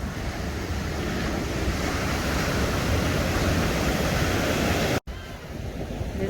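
Ocean waves at Laguna Beach wash in as a broad, continuous roar of surf with gusty wind noise on the microphone, steady and close, with a brief dropout near the end.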